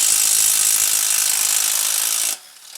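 A cordless power tool buzzes loud and continuous while working bolts loose on a Honda Odyssey, then cuts off abruptly near the end with a short whir.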